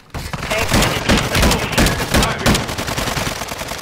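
Rapid, sustained gunfire from the Black Ops shooter game, with dense overlapping shots packed tightly for nearly four seconds, loud and close with no real pauses.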